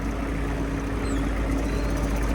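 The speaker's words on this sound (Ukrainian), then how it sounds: "перемикаємо передачку і тракторець їде швидше" A Kubota GT-5 mini tractor's small engine drones steadily at close range while driving, a constant low mechanical hum with no talking.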